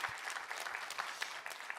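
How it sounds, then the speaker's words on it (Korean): A church congregation at a Korean worship service claps in praise, a faint, steady patter of many hands heard from a distance for about two seconds. "우리 하나님께 감사 영광의 박수 올려드리겠습니다."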